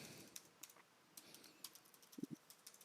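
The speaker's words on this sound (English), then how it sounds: "having a hard time typing" Light, sparse clicking from someone typing on a computer keyboard in a quiet room, with irregular keystrokes spread across a few seconds and a couple of slightly heavier taps near the end.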